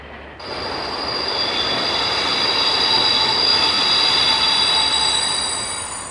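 A loud SNCF diesel railcar enters a long tunnel under the Loyasse hill in Lyon, with sustained high-pitched wheel squeal and steady rumble, swelling and then easing off.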